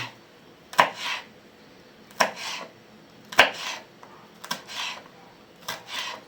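A knife slices vegetables into thin strips on a cutting board, with five or six close, distinct cutting strokes coming at a steady, unhurried rhythm, each a short crisp chop followed by a brief rasping slide.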